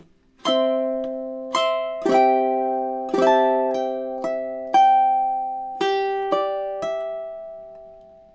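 Ukulele playing two measures of a song, about a dozen clean strummed chords with clear attacks and ringing decays in a steady rhythm, close and alone.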